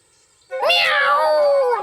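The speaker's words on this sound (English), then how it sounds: "Meow! Said the cat next door and ran off." A cat next door, in a children's story show, gives one loud, drawn-out meow that rises and then slowly falls. It comes after a short quiet moment.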